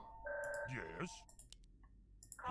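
A phone rings near a Warcraft 3 game commentator, a brief electronic ring burst followed by another starting at the end, mixed with speech and background noise.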